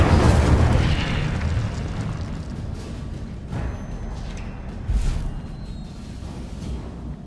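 A spell-casting fire effect in Hogwarts Legacy erupts with a loud whooshing burst at the start, then fades into a rumbling tail, with a second, softer pop and boom a few seconds later.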